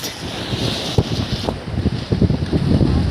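The sea at night by a park on the shore at Limay, with boats nearby, washes in a steady close rush with choppy bursts of surf and wind buffeting the microphone.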